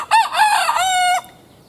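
A single chicken gives one loud, close, drawn-out crow-like call lasting about a second, heard alone against quiet.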